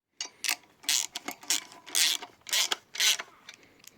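A hand ratchet tightens bolts in sequence on a forged Subaru EJ257 engine during assembly, giving close, loud bursts of clicking strokes in an irregular rhythm with brief pauses between pulls.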